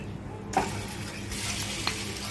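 Oil sizzles in a pan, ready for frying Alexandrian-style liver, a steady close hiss with a faint clink near the start and a brief rise partway through.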